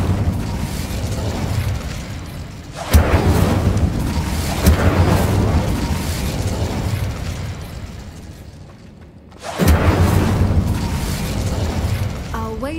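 A fire spell going off in the Hogwarts Legacy video game, with loud bursts and whooshing booms that flare up sharply, fade into a rumbling roar, then burst again near the end, with no talking.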